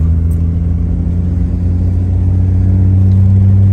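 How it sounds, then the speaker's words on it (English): A 1950 Dodge Coronet rumbles steadily with a low, droning engine tone heard from inside, its pitch shifting slightly lower near the end as it changes gear and pulls away. "I'll use the clutch, shift her down to third, and away we go."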